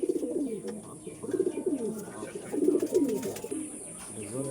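Racing pigeons in a loft coo in repeated rolling bursts close by, several birds overlapping in low throaty calls with brief pauses between phrases.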